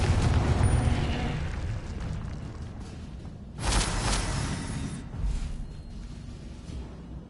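The Confringo explosive spell goes off in Hogwarts Legacy, a loud booming burst partway through followed by a smaller secondary pop, set against rumbling battle ambience.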